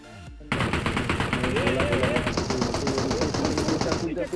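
A DP-28 machine gun fires in the PUBG Mobile video game: one loud, sustained burst of rapid, even shots that runs for about four seconds, with a voice faintly underneath.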